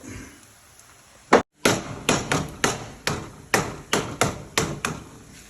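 Frozen Yummes brand porotta beaten by hand to loosen its layers, giving a single sharp slap and then about nine loud, evenly spaced thuds close by, with no talking.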